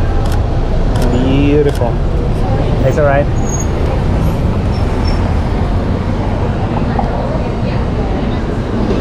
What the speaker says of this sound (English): the tram goes sideways